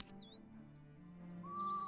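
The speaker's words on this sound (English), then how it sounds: "Eurasian Screech Owl" Eurasian Screech Owl call from the Wingspan video game: a short, fairly faint whistled call over a soft music bed, rising into a clearer tone near the end.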